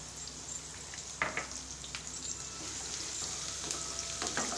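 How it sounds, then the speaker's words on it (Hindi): Roughly chopped onion and spices sautéing in a pan, a soft, continuous sizzle with a few brief stirring scrapes and clinks, close and fairly quiet, with no talking. "एक मिनट तक तमाम मसालों को हम सौटे करेंगे"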